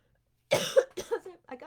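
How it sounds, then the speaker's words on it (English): A person coughs a couple of times in quick succession, harsh bursts close up indoors, with a short throat-clearing sound in between and a breathy trailing cough at the end. "except that I'm coughing"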